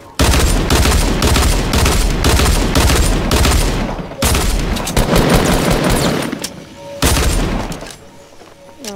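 Rapid, loud shotgun blasts in a video game fire in quick bursts, a tight volley up front, another cluster after a short gap, then a few scattered shots before it tails off.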